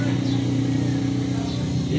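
A Daihatsu Hijet multicab engine runs steadily during a high-pressure wash test, a constant low rumbling drone with someone speaking over it.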